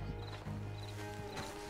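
Horse hooves clip-clopping at a steady walk in Red Dead Redemption 2, with a few soft snorts, close but quiet over a low ambient hum.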